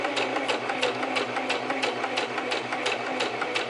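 Sewing machine stitching a French seam, a steady fast mechanical whir with a rapid even needle rhythm, close and continuous.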